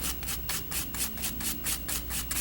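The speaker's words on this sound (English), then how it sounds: "I've got that sanded down" Rapid back-and-forth sanding strokes rub against a small bocote wood drop pendant, about five even passes per second, close and steady with a bright scratchy texture and no talking.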